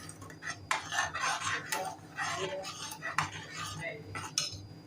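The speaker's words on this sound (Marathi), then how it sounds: "तरी छान मिक्स करून घेऊया" A spoon stirring Kolhapuri misal gravy with ground masala paste in a metal pot, repeated clinking and scraping strokes in an irregular rhythm, close and moderately loud.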